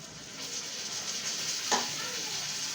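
Ginger and garlic paste frying in a pan for a spicy pangas fish curry, a soft continuous sizzle with one brief scrape of stirring partway through.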